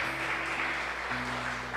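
A church congregation applauding, a steady, soft wash of clapping held at an even level throughout, somewhat distant and filling the room.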